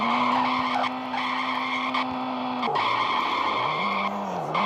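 A loud, continuous tire screech from a video game car drones over a roaring engine, the pitch dipping and sliding as the car skids.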